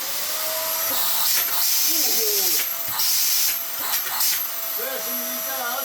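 A Vax Air Stretch vacuum cleaner running loudly after a service and mains cable replacement, a steady close airy whine and hiss with someone speaking briefly over it.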